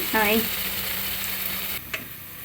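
Ginger garlic frying in a pan for goat head curry, a loud bright sizzle with a brief voice at the start and a clatter near the end.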